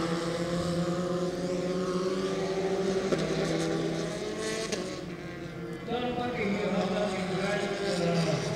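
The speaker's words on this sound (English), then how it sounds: "Here are the drivers changing through the gears using the paddle shift system on the steering wheel" Formula 4 race cars at a Southeast Asian championship round, engines droning steadily with rising and falling pitch as the drivers shift gears, while a commentator talks over the continuous engine noise.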